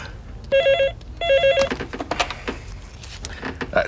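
A telephone rings in a 1987 soap-opera scene, two loud electronic trilling bursts close by, followed by rustling and background movement.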